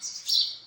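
House sparrows chirp in a brief, bright burst of high twittering calls, fairly close and clear with no voices present.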